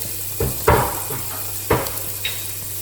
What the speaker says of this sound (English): Just let that saute off nicely.